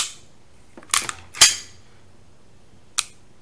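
Crisp metallic clicks from a Sig Sauer P320 X5 Legion pistol trigger and reset: a quick pair of sharp snaps, then another click a moment later, close and loud against near silence.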